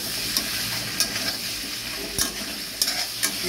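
Soya chaap with Kashmiri chilli and spices stir-fried in a pan, a steady close sizzle broken by several sharp spatula scrapes and taps at irregular intervals.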